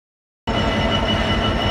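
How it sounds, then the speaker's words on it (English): A freight train idles at Exeter St David's station, a steady loud rumbling engine drone that starts abruptly and holds constant with no other sounds. "the freight train is actually waiting at the station for the signal"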